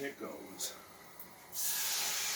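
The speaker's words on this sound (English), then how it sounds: "You hear that sizzle." Omelette eggs hit a hot pan and break into a loud, steady sizzle that swells suddenly and holds, following a brief stretch of quieter sounds and a voice.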